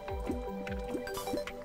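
Lava pours in Terraria on Master Mode as a run of quick, squishy, gurgling liquid blips, three or four in a row, loud and close.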